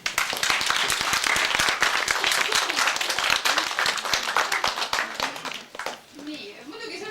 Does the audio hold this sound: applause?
yes